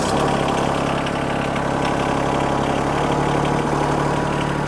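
A John Deere X950R commercial ride-on mower tractor with a diesel engine idles steadily and loudly up close, a constant low rumble with a faint knocking texture and no talk.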